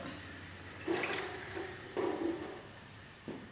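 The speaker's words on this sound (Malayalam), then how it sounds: "ലേശം വെള്ളം ഒഴിക്കുക." Water splashes into a pan in short pours, three brief gushes with quiet gaps, close and fairly soft.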